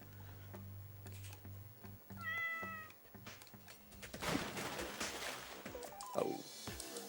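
A cat meows in the video game Goat Simulator, a couple of short, moderately loud calls against a steady low game hum and scattered effects.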